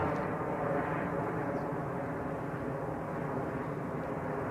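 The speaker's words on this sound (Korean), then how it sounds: "안녕 비행기야" An airplane flies overhead, its steady engine roar filling the air continuously with a broad rumble that holds level throughout, with no speech.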